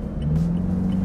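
A Toyota Fortuner GR 2.8 4x4 diesel, modified with an EVC throttle controller and Hurricane intake, accelerates hard from inside the cabin, its engine note a loud, steady low drone with a rising whine layered over it.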